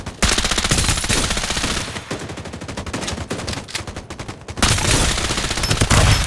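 Sustained automatic weapon fire from the shooter game Farlight 84, loud and close, rattling in rapid continuous bursts with a brief dip before resuming at full intensity.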